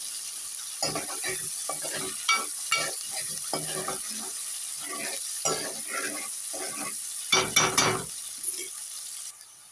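Curry leaves and small tomatoes fry in hot oil in a pan, giving bursts of sizzling and crackling with intermittent stirring scrapes, close by over a steady background hum.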